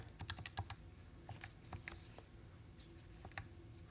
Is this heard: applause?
no